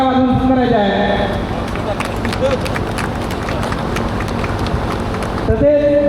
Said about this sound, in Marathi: त्यांचे सुद्धा स्वागत आपण टाळ्या वाजवून करायचे आहे